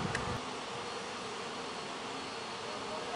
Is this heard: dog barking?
no